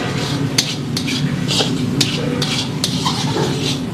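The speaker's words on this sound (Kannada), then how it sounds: "ಈರುಳ್ಳಿ, ಟೊಮ್ಯಾಟೊ ಮತ್ತು ಪನ್ನೀರ್ 3 ಸರಿಯಾಗಿ ಮಿಕ್ಸ್ ಆಗೋವರೆಗೂ ಇದನ್ನು ಚೆನ್ನಾಗಿ ಮಿಕ್ಸ್ ಮಾಡ್ಕೋಬೇಕಾಗುತ್ತೆ" A spoon scrapes and knocks against a pan while onion, tomato and paneer are stirred together over a medium flame, giving sharp, irregular metallic clinks every half second or so over a low sizzling hiss.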